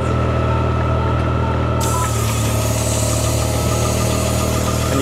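A sports field line marking machine's engine drones loudly and steadily as it drives along, a constant close mechanical hum with vibration and no talking.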